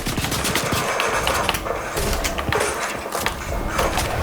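Rapid automatic gunfire and shots from the video game Fortnite. Dense bursts crack continuously and loudly throughout, with little pause and no talking over them.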